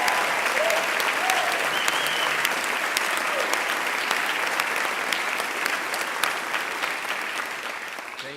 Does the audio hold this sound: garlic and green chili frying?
no